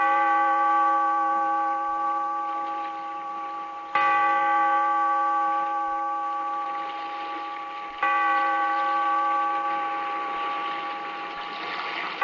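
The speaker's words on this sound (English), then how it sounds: "Bellkeeper, toll the bell, so that all may know we are gathered again in the weird" A deep bell tolls slowly for a radio drama's opening, three resonant strikes about four seconds apart, each ringing out and fading before the next, with no voices.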